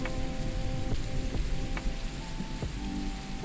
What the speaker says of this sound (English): we got the nice sounds of rain